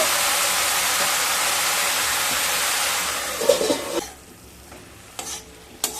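Pumpkin greens being stirred in a pan, a steady sizzling hiss of frying under scraping, then softer after about four seconds with a few brief clinks and scrapes.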